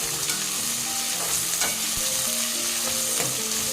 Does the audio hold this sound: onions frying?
yes